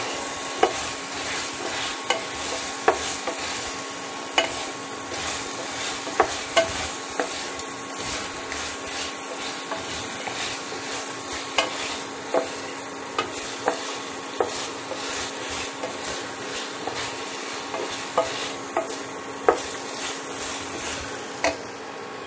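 Aromatic dry chicken fries in a pan with a steady, even sizzle. A utensil scrapes and stirs through it with regular sharp clacks against the pan, and there is no talk.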